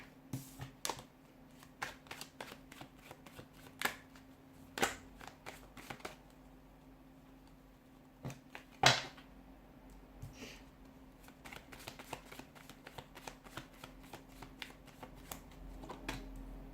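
A deck of tarot cards is shuffled close up in short, irregular bursts of crisp riffling and soft slaps, with brief pauses between and no talking.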